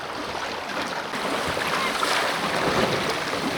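A KaaNoo boat sails along on open water, its hull rushing steadily through the waves while wind buffets the microphone; the sound is continuous and fairly loud, with no voices.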